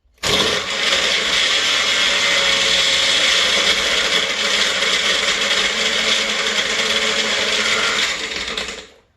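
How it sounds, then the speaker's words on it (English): A Magic Bullet blender whirs steadily as it mixes a blueberry smoothie, a loud, close, unbroken motor drone that starts abruptly, runs for about eight seconds and then cuts off. "So I have my magic bullet over here, if you can see."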